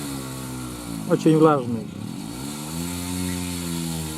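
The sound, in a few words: old motor pulling a plough through wet soil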